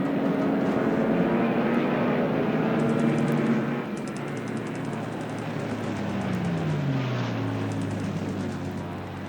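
Steady droning engines of World War II torpedo bombers in a Pacific war strategy game, a continuous propeller hum with a slowly falling tone and a faint ticking overlay.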